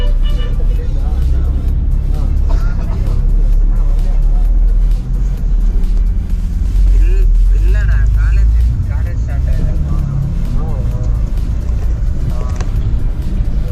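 Steady low engine rumble and road noise fill the cabin of an air-conditioned bus on a long highway trip from Bangalore toward Prayagraj, a continuous loud drone with faint talk mixed in.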